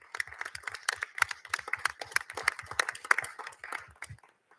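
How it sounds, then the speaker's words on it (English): A small group at a school board of education meeting claps, distinct individual hand claps in a quick irregular patter, fairly close, fading out and stopping near the end. "So if we could give them a round of applause,"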